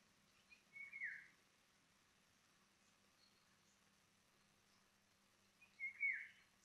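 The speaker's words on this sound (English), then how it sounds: "this is the bird" Two short, faint bird chirps sound a few seconds apart against quiet background hiss, with no talking.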